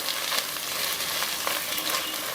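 Mutton pulao ingredients with mint and coriander fry in a pan, a steady, close sizzle with faint stirring crackles running throughout, no voice.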